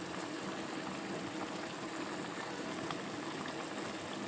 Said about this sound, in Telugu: కర్రీ ఉడికే విధానం బాగుంది కదా